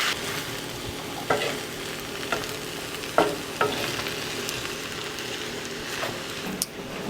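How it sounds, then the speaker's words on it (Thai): Spring roll filling of stir-fried glass noodles stirred in a hot pan as it dries and cools, soft sizzling under occasional sharp knocks and scrapes of the spatula, close and without speech. "ตอนนี้เราก็จะปล่อยให้มันเย็นเนาะเดี๋ยวพุจะคนไปเรื่อยๆนิดนึง"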